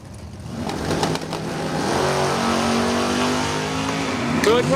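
A Chevrolet S10 and a 1967 Camaro launch side by side at a drag race, engines building into a dense, steady roar that swells and holds, with a voice talking over the noise.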